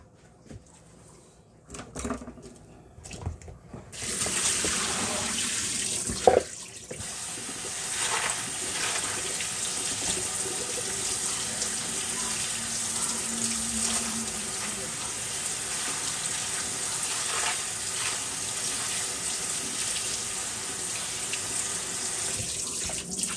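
Kitchen tap runs steadily while cabbage is washed under it, a continuous close rush of water with small splashes that starts after a few seconds of handling noises.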